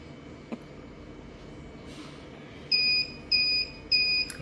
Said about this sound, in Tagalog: Hanggang mag-triple beep.